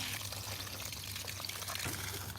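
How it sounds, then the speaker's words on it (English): A garden hose waters a garlic bed, a continuous hissing splash of water pouring steadily and close, with no talking. "I'm gonna water the garlic"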